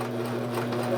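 A Sears Kenmore sewing machine runs a triple straight stitch, a steady close mechanical whir with fast regular needle chatter for the whole second.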